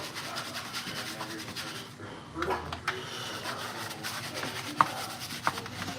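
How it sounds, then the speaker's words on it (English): A vintage hat sweatband scrubbed by hand with Dawn dish soap, a close, quiet rhythmic rubbing with a few sharper scuffs and taps. "We're just gonna do some quick Dawn, guys. Quick Dawn scrub in here."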